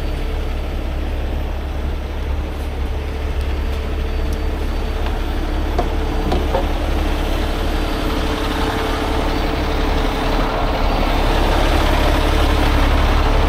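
A brand-new semi truck tractor idles steadily nearby, a constant low diesel rumble with an even mechanical drone and no voices over it.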